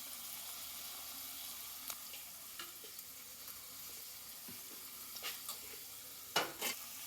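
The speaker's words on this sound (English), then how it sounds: "So keep doing this till the onions get reddish in color." Onions are being fried in butter for pav bhaji, with a faint, continuous sizzle and scattered soft scraping clicks from stirring in the pan.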